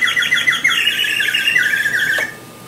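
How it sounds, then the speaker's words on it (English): A bird whistle effect on an American Fotoplayer gives a loud run of shrill warbling chirps, rapid and fluttering, ending abruptly after about two seconds. "Down on the slip key, we have here a bird whistle,"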